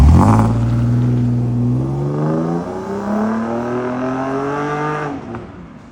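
A BMW exhaust with a remote-controlled valve performance exhaust kit roars as the engine revs hard, then settles into a rising, throaty drone before easing off near the end.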